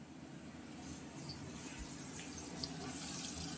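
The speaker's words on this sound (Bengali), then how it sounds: "দেওয়া হচ্ছে জল" Water poured into a pan for a mourala fish curry, a steady soft running and splashing hiss, close and quiet, without speech.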